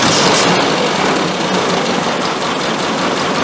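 A classic car with SU carburettors idles after tuning, a steady close mechanical hum and whirr holding an even pace throughout.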